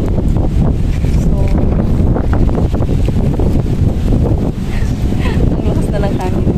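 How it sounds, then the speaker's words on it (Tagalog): Strong typhoon wind from Typhoon Enteng in Hong Kong buffets the microphone in loud continuous rumbling gusts, while a voice talks underneath. "ang lakas na lang hangin guys"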